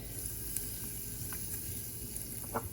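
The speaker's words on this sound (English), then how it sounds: "2 tablespoons of butter. Stick this in a pan" Two tablespoons of butter melt in a pan with a soft, continuous sizzle and a few faint pops and clicks, fairly quiet, with no voices.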